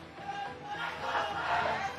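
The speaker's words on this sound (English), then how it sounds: "The crowd is going wild. Everyone is cheering for their favorite team." Esports arena crowd at a mobile-game grand final, a steady distant roar of cheering voices swelling slightly louder toward the end, with no clear single voice on top.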